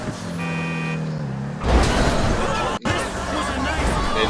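A car in GTA 5 drives with its engine running, a brief horn-like tone early on, then louder road and traffic noise with background chatter, briefly cut by a short dropout.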